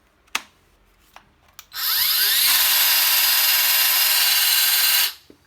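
A Parkside PHKSA 12 A1 cordless 12V circular saw cuts through wood in one steady, loud, high-pitched whine lasting several seconds, preceded by a few short trigger blips and a brief spin-up.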